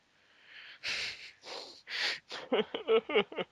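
A person with a cold sniffles and snorts through the nose, starting with several long breathy sniffs and then a quicker run of short wet sniffs, all close to the mic.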